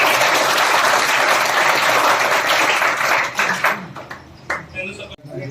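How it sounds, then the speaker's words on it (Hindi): Loud audience applause fills a welcome event for a student selected in Agniveer army recruitment, dense clapping that thins out and breaks into scattered claps and voices toward the end. "एक बार फिर से जोरदार ताली बजाइए।"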